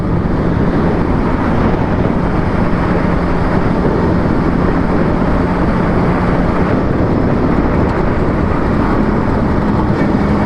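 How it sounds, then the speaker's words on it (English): A car slowing under significant engine braking, a steady, loud low-frequency drone and road rumble that holds unchanged throughout, with no voices. "Significant engine braking, and that's how we roll."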